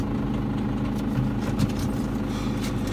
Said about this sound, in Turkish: Ben motoru hemen çalıştırayım şöyle.